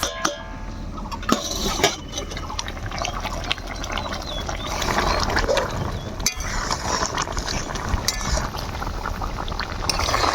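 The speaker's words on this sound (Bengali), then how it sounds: "এবার ভালোভাবে ঢাকা দিয়ে অনেকক্ষণ ধরে সেদ্ধ করে নেব" Goat lungs simmer in water in a covered pot with a steady, moderately loud bubbling and rattling hiss, interrupted by a few sharp knocks of the lid or pot.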